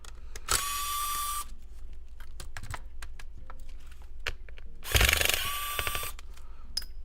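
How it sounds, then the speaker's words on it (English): A ratcheting screwdriver works loose a screw on a laptop motherboard, giving quick clicking ticks scattered through the stretch, with two loud, broad rattling bursts like a hammer drill, close and with no talk. "When I unscrew it, it goes like a hammer drill type of setup"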